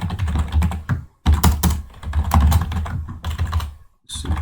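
C code being typed on a computer keyboard, with rapid clattering bursts of keystrokes up close broken by two short pauses, loud and alone.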